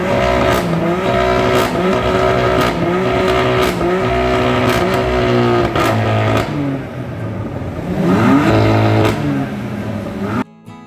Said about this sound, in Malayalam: ഈ ഒരു വണ്ടിയുടെ എക്സോസ്റ്റ് നോട്ട് ഞാൻ ഈ വീഡിയോയിൽ ആഡ് ചെയ്യുന്നതായിരിക്കും.